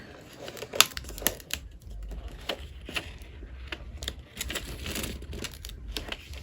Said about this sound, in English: I'm going to slowly peel back the carrier sheet